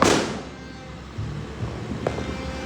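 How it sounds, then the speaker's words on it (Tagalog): Fireworks going off at a year-end celebration in Mapandan, Pangasinan: a loud burst opens, followed by scattered dull thumps and pops nearby over a steady outdoor rumble. "May mga malalakas magpaputok doon."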